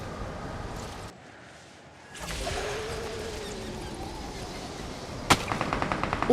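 Gunfire in PUBG Mobile: a sharp, loud shot near the end followed by a quick string of rapid rounds, after a stretch of muffled background rumble and a short near-silent gap.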